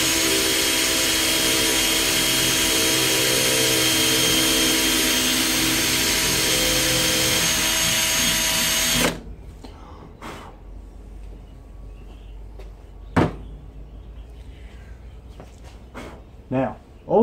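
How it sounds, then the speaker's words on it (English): An electric drill whines steadily and loudly for about nine seconds while drilling a hole in a steel trailer frame, then stops abruptly, leaving quiet with a few sharp clicks and knocks. "Now we can drill the other hole."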